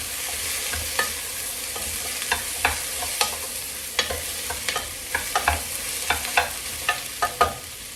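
Carrots added to a frying pan and stirred while cooking a base stock, a continuous soft sizzle broken by repeated sharp scrapes and clinks of a utensil against the pan, close and with no talking.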